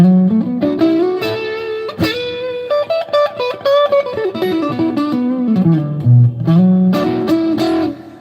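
A $129 semi-hollow thinline Telecaster-style electric guitar played through its pickups, a clean sustained melodic line of single notes and short chords with light effects, alone and fairly loud.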